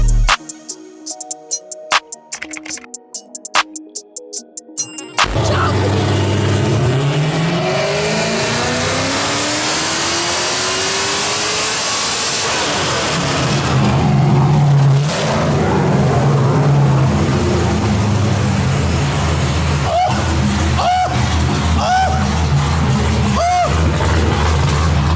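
LS-swapped Nissan Skyline on a dyno, its V8 revving loud and close, climbing in a long sweeping pull after a brief burst at the start, then holding a heavy roar with a few short blips near the end.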